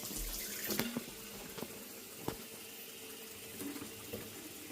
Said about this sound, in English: We're just going to let the water run hot